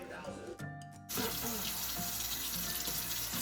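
Tap water gushes into a mason jar being washed out at a sink, starting abruptly after a moment of quieter handling and then running as a loud, steady splash close by.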